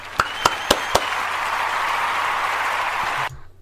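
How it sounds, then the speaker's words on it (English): Round of applause at a DJ show, beginning with a few distinct claps that swell into a steady, moderately loud wash of clapping before stopping abruptly. "we're going to give him a round of applause for his advice and wisdom"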